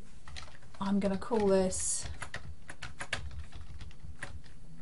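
Typing on a computer keyboard while composing an email subject line, a steady patter of soft, close key clicks running under a man's speech and continuing after he pauses.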